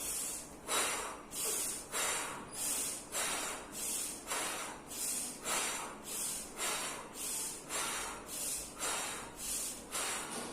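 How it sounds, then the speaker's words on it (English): Rapid, rhythmic breathing during a morning exercise session, with about fourteen forceful, evenly spaced breaths over ten seconds, each a short hissing rush of air, close and steady, with no talking. "Now breathe in, breathe out."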